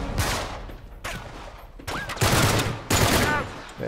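Gunfire in the video game Uncharted 3 comes in loud, rapid bursts of shots, broken by short gaps and a brief whooshing sweep.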